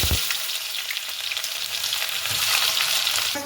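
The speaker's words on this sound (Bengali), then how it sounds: "আর এই পেঁয়াজ ভাজা থেকে এলাচ দারচিনি দিয়ে ভাজছি পেঁয়াজটা" Onions fry in oil with cardamom, cinnamon, dry red chilli and cumin seeds, giving a close, steady sizzle with light crackles and no voices over it.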